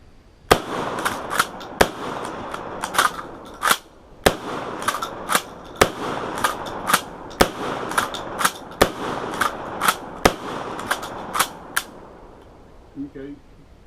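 A KSG 12 gauge pump shotgun fired at an outdoor range: a steady series of about twenty sharp, loud single blasts spaced roughly a second apart, with faint talk between them.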